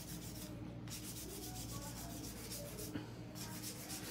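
A hand file rubs back and forth across an acrylic nail in quick, faint rasping strokes, repeated in a steady rhythm close to the source.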